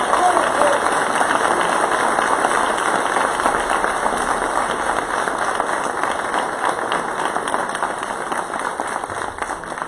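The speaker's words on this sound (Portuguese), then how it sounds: "Quem crê, aplaude ao Senhor Jesus." Church congregation applauding during a sermon, a sustained, dense wash of clapping from a large crowd at steady loudness for around ten seconds, with some voices mixed underneath.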